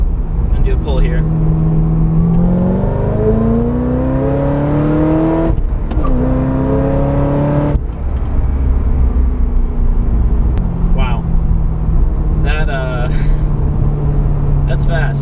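A Corvette ZR1 60th Anniversary accelerates hard from inside the cabin, its engine note climbing loudly through rising pitches with quick breaks at gear changes, then settling into a strong drone.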